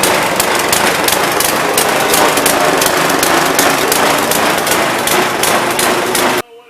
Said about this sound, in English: so we got the motor running